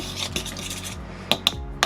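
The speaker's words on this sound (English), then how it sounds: "Mix that in." Ingredients being mixed by hand in a bowl, a close scraping and rubbing that runs steadily, then ends with a few sharp taps, with no talk.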